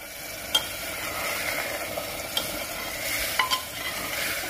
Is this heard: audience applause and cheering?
no